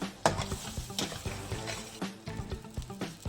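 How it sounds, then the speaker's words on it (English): Spinach cooks in a palak paneer gravy: a soft bubbling sizzle with rhythmic stirring scrapes and light clinks of a spoon against the pot, fairly quiet and close. "We're still going to cook the spinach a little bit."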